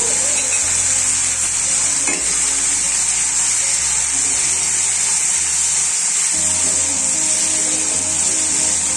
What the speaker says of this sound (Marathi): तेल तापलंय, जिरं पटकन वरती आलंय. याच्यामध्ये लगेच मी हे बारीक केलेली हिरवी मिरची आणि लसूण घालणार आहे